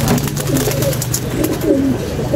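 A fairy swallow pigeon coos close by in soft, repeated low calls over a steady background hum.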